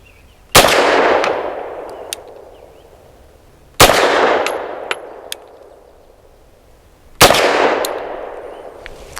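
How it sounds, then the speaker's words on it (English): Three loud, sharp pistol shots from an FB Radom Vis 100 M1, the first fired double action, each a sudden blast with a ringing decay, spaced about three seconds apart with no talking. "So first shot will be double action."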